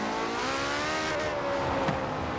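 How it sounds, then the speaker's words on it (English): A tuned hybrid car engine in Forza Horizon 4 revs on a night highway, its rising whine climbing steadily in pitch, loud and continuous over a short burst. "We hear this hybrid engine."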